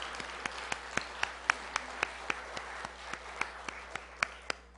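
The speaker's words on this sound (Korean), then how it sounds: "우리 모두에게 은혜의 박수 부탁드리겠습니다." A church congregation claps, sparse and fairly faint, a few distinct claps spaced unevenly over a low steady room hum, with no voices.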